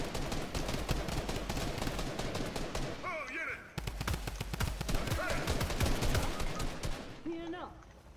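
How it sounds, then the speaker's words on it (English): Rapid video-game gunfire rattles in steady bursts, a sniper-style shooter with an enemy player firing on the squad, continuous and busy with brief gaps, while someone talks over it. "Jules is shooting at us"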